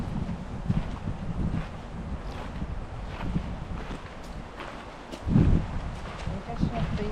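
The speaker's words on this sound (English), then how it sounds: "typically it's gone windy again" Steady wind roars across the microphone with rustling gusts through trees at Cannock Chase; a stronger blast swells briefly near the end.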